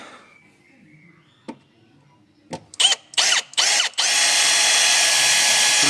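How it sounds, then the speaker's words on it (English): Several short bursts of a power drill drilling holes in a Honda NSX, followed by a steady, sustained whine of drilling; loud and close, with no talking. "We'll drill them with the drill."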